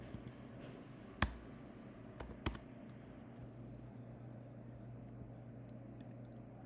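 Computer keyboard typing as code is entered, with scattered close key clicks over a steady low room hum, quiet and without voices.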